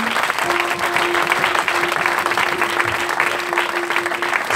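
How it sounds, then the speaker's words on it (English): A congregation at an all-night prophetic church service claps their hands together, a steady, fairly close patter of many hands lasting several seconds with a sustained tone running underneath. "Clap your hands unto the Lord."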